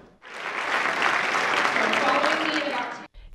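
An audience cheers and applauds after a campus speech by a conservative commentator at Cal State Fullerton, a loud, dense, sustained burst of clapping and cheers lasting about three seconds before cutting off abruptly.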